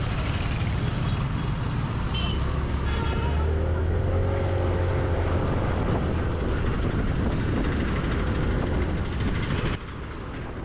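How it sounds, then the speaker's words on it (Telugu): Nearby vehicles roar past during a ride on a 2025 TVS Jupiter 125cc scooter, a steady, dense rush of road and wind noise with passing engines that eases slightly at the very end. "మీకు పక్కన ఉండే వెహికల్స్ నాయిస్ ఎక్కువ వినపడుతుంది"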